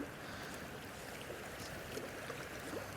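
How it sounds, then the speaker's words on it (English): Fast, turbulent river water rushing through a pool on a grayling stream, a steady broadband wash that stays even and close throughout, with no talk over it. "Water's quite fast and turbulent, which is how I like it for this kind of fishing."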